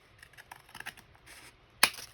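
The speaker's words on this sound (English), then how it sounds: "We'll go ahead and trim that off." Scissors trim paper and wire-backed material on a Halloween journal, a few soft snips followed by one sharp, loud cut near the end, with no talking.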